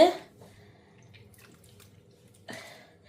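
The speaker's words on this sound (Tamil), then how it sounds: "கொஞ்சம் கொஞ்சமாக தண்ணி விட்டு நீங்கள் பால் எடுங்க" Water is poured little by little into wheat flour dough for making muscat, a short splash at the start and another near the end, with soft squelching and quiet drips between.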